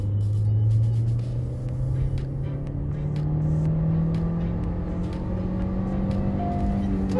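Hyundai Creta petrol engine accelerating in second gear, heard from inside the cabin: a steady low drone that rises gradually in pitch as the revs climb, muted and smooth under faint road noise.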